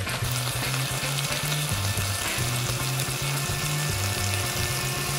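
Chicken breast stir-fried in a pan with perilla leaves, a steady close sizzle with scraping and tossing, and a low hum pulsing underneath throughout.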